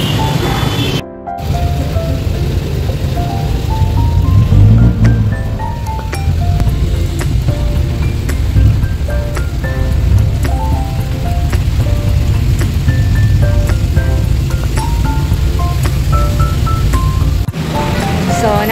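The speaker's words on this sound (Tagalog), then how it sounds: "Umuulan, no?" Rain falls steadily outdoors on a street in Libis, Quezon City, a broad continuous patter with traffic rumble and faint passing sounds mixed in throughout.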